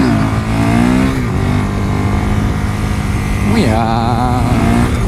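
A KTM Duke motorcycle engine revs loudly close up, its pitch falling with a quick downshift and then rising into a sharp rev during a wheelie, with a brief word spoken over it.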